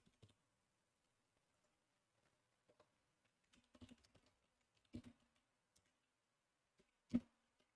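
Faint, scattered keystrokes on a computer keyboard come in short irregular bursts with a couple of louder clacks, alone in a quiet room.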